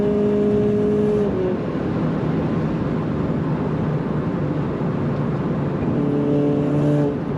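A powerful Mercedes-Benz A 45 S AMG engine revs hard to about 6700 rpm and holds at high pitch, then the tone drops and climbs again near the end; no talking.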